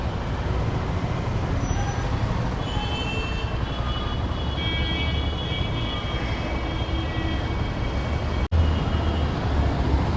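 Steady roar of road traffic on a sunny road near Lonavala, a continuous low rumble with passing vehicles and a faint engine drone throughout, with no talking.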